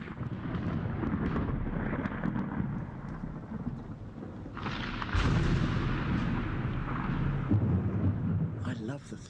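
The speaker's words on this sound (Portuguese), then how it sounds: "Eu adoro o trovão, o ruído do trovão" Deep, rolling thunder rumbles on continuously, swelling louder partway through, with a steady hiss of rain underneath.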